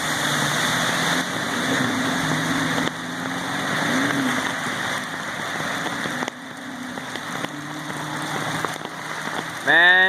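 A heavy rainstorm pours down in a dense, loud, continuous roar of rain striking surfaces, with a brief squeaky noise near the end.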